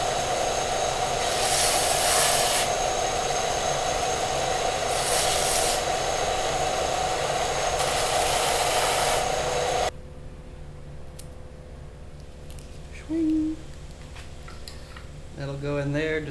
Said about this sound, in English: I'm gonna come back and hit it on the sander to smooth it out